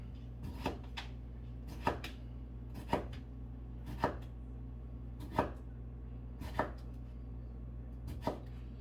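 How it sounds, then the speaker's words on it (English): A knife slices raw potato into matchsticks on a board, giving about eight crisp, evenly spaced chops roughly a second apart, close but quiet over a low steady hum. "When I slice it, it's going to be like the size of matchsticks."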